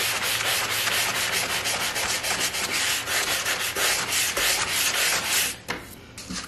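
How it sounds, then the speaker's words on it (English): Wood is sanded by hand with a grittier sanding block, making rapid rhythmic scratchy rubbing strokes, close and steady, pausing briefly near the end. "grab a little bit grittier grit of sanding block."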